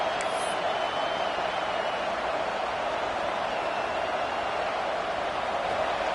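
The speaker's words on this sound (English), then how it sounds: "this crowd trying to help this defense rise to the occasion" Stadium crowd in the NCAA 26 football game on fourth down, a dense steady roar of many voices holding at an even level throughout, with an announcer speaking over it.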